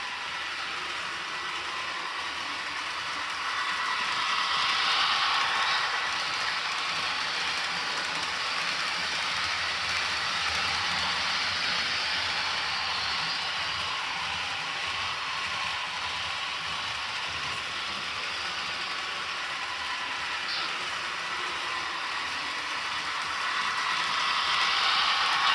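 A Broadway Limited Paragon 4 HO scale model freight train, a Santa Fe GE ES44AC locomotive #805 with freight cars, runs with a steady hiss-like rumble that holds evenly throughout, without talk.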